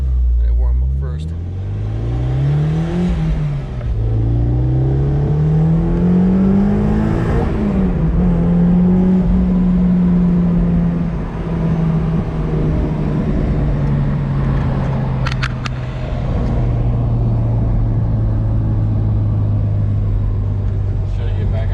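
An SRT-swapped car engine idles while warming up, its pitch rising and falling with revs and then settling into a steady, loud drone for over twenty seconds, with a voice speaking over it.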